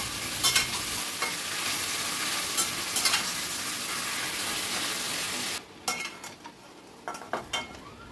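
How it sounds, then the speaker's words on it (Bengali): Chicken pieces fry in oil in a pan over a medium-high gas flame, a steady close sizzle with a few sharp clinks of a spatula against the pan; the sizzle drops off abruptly and only scattered utensil taps remain. "গ্যাসের ফ্লেমটা মিডিয়াম টু হাইতে রেখে আমি চিকেনের টুকরোগুলোকে একটু ফ্রাই করে নিচ্ছি"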